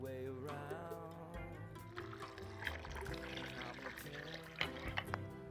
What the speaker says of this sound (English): I'm going to add in the vegetable broth